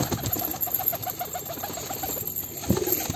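Pet pigeons feeding from a hand give soft, rhythmic cooing at close range, a steady series of low pulses with faint rustling and one slightly louder coo near the end.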